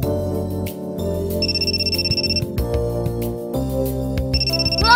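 A phone ringtone plays in the visual novel game Amnesia: Memories, a melodic electronic tune with repeated chiming phrases over a soft music bed, clear and close, with no talking.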